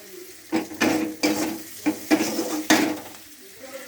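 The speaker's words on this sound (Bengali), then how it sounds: "ধনের গুঁড়োটা দিয়ে একটু ভেজে নেব। বন্ধুরা দেখো, আমি কি সুন্দর নেড়ে নিচ্ছি।" Coriander powder frying in a pan for a fish curry while a spoon stirs it: sizzling underneath close scraping and clinks of the utensil against the pan, in several uneven strokes.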